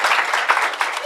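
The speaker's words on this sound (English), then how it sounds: "We can clap for her too" A short, loud burst of clapping from an audience at a conference panel honoring a state representative, a quick patter of many hands lasting about a second.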